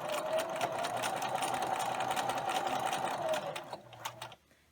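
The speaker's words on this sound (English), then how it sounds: "And sew this one end of the tube closed." A sewing machine stitches one end of a fabric tube closed for a catnip cat toy, giving a steady close whirring hum at even speed for several seconds before slowing and stopping.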